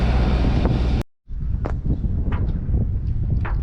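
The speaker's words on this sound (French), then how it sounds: "Et on a 25 nœuds de vent." Strong wind of about 25 knots roars across the microphone at sea in heavy, continuous gusts, with a brief dropout partway through.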